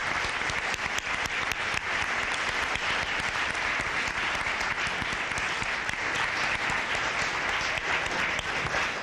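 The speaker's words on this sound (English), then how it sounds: "let's give these candidates a round of applause." A crowd at a board candidate forum applauds the candidates with loud, sustained clapping that stays dense and even for about nine seconds without any talking.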